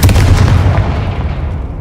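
A Confringo spell goes off in a video game as a loud, booming explosion, one heavy low blast that rumbles and fades out over about two seconds.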